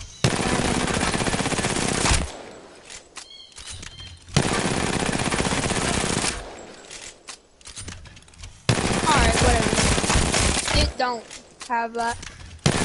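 Rapid automatic gunfire in a video game comes in loud sustained bursts separated by short pauses, with a person talking during the gaps.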